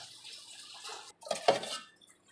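Hot water is poured onto built-up ice inside an LG double-door freezer, making a soft splashing trickle with clinking, knocking contacts and a brief pause in the middle.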